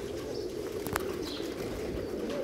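Double-crested pigeons cooing, soft low coos over a steady background hum with a brief chirp or flutter partway through, fairly faint and without speech.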